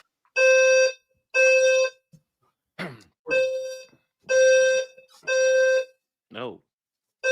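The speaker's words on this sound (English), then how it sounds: "I got a fire alarm." A fire alarm sounds in loud repeated electronic blasts, each about half a second to a second long with short gaps, and a voice speaks briefly between the blasts.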